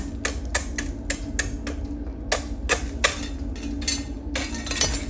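Tapping on cooling lava at a lava show in Reykjavik, with sharp glassy clinks struck in quick, irregular bursts over a low hum, close and fairly loud.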